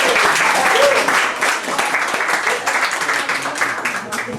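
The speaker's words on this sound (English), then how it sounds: "round of applause to Lizzy Hobbs." An audience claps warmly, a dense burst of applause that gradually thins and softens over a few seconds.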